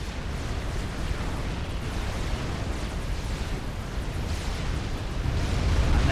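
A wave of strategic bombers dropping bombs on a base in a real-time strategy game, a dense continuous roar of overlapping explosions rumbling steadily throughout and swelling slightly toward the end.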